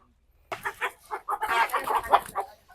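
A giant farm chicken, three to four months old and weighing about four kilos, clucks loudly and close by at a farm in Bukidnon, Philippines, with a rapid run of throaty clucks that swells into a longer squawking call.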